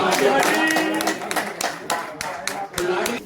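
A community gathering in Jabalpur claps by hand, loud, close, irregular strikes, some in quick clusters, over a murmur of voices.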